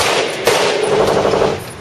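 Gunfire inside an indoor range at a Las Vegas gun store: a loud, dense run of rapid shots blending into continuous, reverberant blasting for nearly two seconds.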